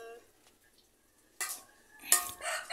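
Vegetable salad being stirred and mixed in a bowl, with short bursts of scraping and clatter from a utensil against the bowl, quiet at first and then louder scrapes near the end.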